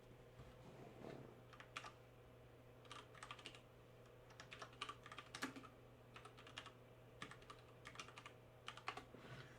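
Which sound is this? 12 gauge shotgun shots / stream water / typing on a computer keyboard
typing on a computer keyboard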